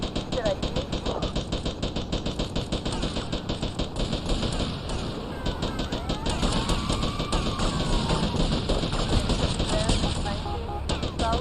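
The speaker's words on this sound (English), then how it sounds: "The Tech 9 is such a bad gun in this game." Rapid, continuous Tech 9 submachine gun fire in GTA Vice City, a dense stream of loud shots with brief pauses between long bursts and an engine-like hum underneath.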